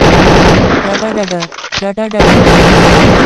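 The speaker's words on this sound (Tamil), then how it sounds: "வீரப்பன் ஆம்புலன்ஸின் கதவை திறந்து தனது ஏகே நாற்பத்தேழு ரக துப்பாக்கியால் கண்மூடித்தனமாக சுடத் தொடங்கினார்" AK-47 rifle fire in a dramatized roadside ambush, loud rapid bursts of shots crackling close up over a heavy rumble, with a short gap and distorted stuttering pops in the middle before the dense firing resumes.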